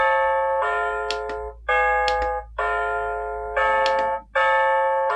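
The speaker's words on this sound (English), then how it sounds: "Now we have the alarm chime setup." Alarm chime from an XREXS large digital wall clock, a loud, close electronic bell-like melody of repeated sustained tones that decay and restart about five times, with short clicks between notes and no voices.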